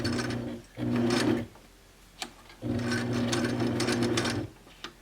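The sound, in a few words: sewing machine stitching forward and backward on a quilt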